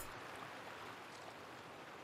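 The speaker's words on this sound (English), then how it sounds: "I love the sound of running water." Running water in The Sims Medieval gives a soft, steady broadband wash like a stream, faint and continuous, with no voices.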